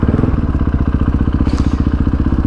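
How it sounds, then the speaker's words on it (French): A supermoto motorcycle engine idles loudly and up close, its steady rapid pulsing thump running throughout with a rough, clattering edge. "une moto qui ressemble à une 50 qui fait autant de bruit"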